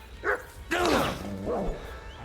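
A dog in the video game Kingdom Come: Deliverance 2 gives a few short barks and yelping whimpers in quick succession, moderately loud against a low background rumble.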